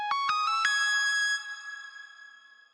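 A Zebra synth lead with the Hey S Scratch Sign preset plays a short bright arpeggio of four quick plucked notes rising from A to the A an octave higher, then rings out alone and fades.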